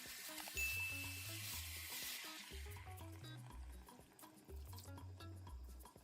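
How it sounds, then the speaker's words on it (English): Beef and thickener sizzle and bubble faintly in a sauce as a spoon stirs through the pan, a soft continuous fry under louder background music, with no talk. "Give it a good stir and allow it to simmer for about 5 minutes or just until your sauce thickens up"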